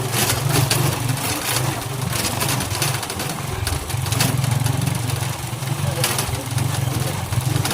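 Motorcycle engine running steadily on a rough road, a continuous mid-pitched drone with a low hum and occasional rattles and bumps, fairly close and loud throughout.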